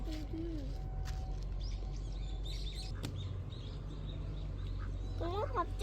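Ducks quack repeatedly among peacocks at an outdoor animal area in Jeju, with scattered bird chirps over a steady low background hum and murmuring people nearby.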